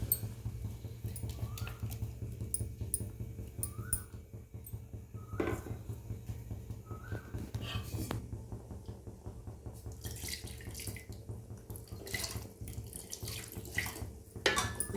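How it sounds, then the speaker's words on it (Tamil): Water runs and splashes into a blender jar being rinsed in a home kitchen, a steady trickling flow with brief clinks and sloshes, close and fairly quiet with no talking. "ஜாரில் கொஞ்சம் தண்ணி ஊற்றி கலக்கி கழுவி ஊற்றிடும்"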